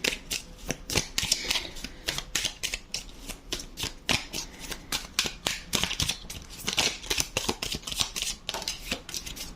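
Rapid, repeated riffle shuffles of a tarot card deck, crisp papery bursts coming in quick succession, close up with no talking.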